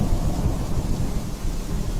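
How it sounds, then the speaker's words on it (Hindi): Steady, dense rainfall roars without a break, with deep low rumbling underneath like distant thunder. "और फिर आसमान से मूसलाधार बारिश होगी"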